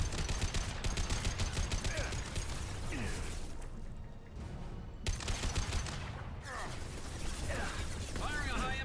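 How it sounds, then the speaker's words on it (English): Rapid high-impact gunshots and volleys of gunfire from a Mass Effect 2 firefight in the Shadow Broker DLC, loud and dense across the clip with brief lulls, mixed with game voices and mechanical clatter. "Firing a high-impact shot!"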